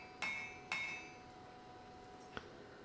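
Hammer blows ring on a wrought-iron viking hammer head on the anvil, two bright metallic strikes in quick succession and then a softer third tap, close and clear with ringing decay.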